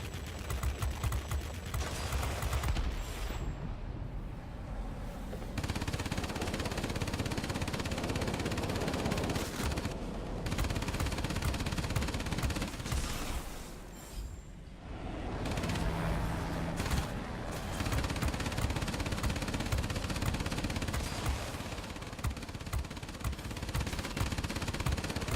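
Aircraft rear gunner's machine gun in World of Warplanes on a Tier X Blohm und Voss P.215.02 multirole fighter, rattling in long dense bursts with brief pauses, loud and close over a steady engine drone.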